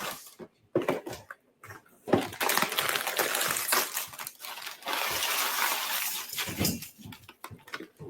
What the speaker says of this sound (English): Let's start with about a cup of water.